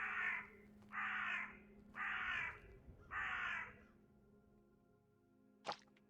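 A crow caws four times in an even, spaced rhythm, loud and clear, followed by quiet and a brief sharp click.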